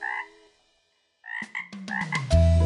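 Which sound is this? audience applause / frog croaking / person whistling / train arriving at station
frog croaking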